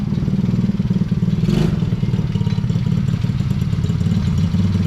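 A TaoTao 110cc kids ATV, left sitting unused for years and now brought back, runs close and loud, its small engine throbbing steadily and rapidly at idle, with a brief rise partway through.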